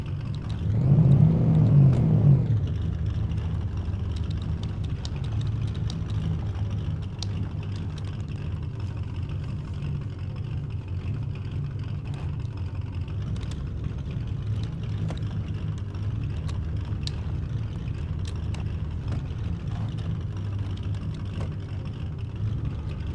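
A car engine in the video game DayZ, revving hard at the start and then settling into a steady low rumble that runs on at an even, fairly loud level with no talk.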